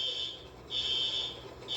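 A fire alarm rings during an office fire drill, sounding as a steady high electronic tone in repeated long pulses with short gaps, moderately loud against a quiet room.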